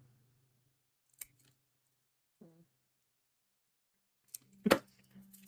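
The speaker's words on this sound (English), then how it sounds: "Let's keep going with the cutting." Scissors make a few sharp, quiet snips, spaced seconds apart, while cutting back hoya plant stems in an otherwise hushed room. One rustle of handling comes between the cuts.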